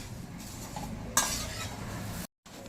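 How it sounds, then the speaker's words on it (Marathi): Puffed rice being dry-roasted and stirred in a pan for a spicy chivda snack, giving a continuous dry rustling scrape with a brighter sweep of stirring midway, close and moderately loud, before a brief cut to silence. "आता आपले हे मुरमुरे सुद्धा मस्त भाजून झाले"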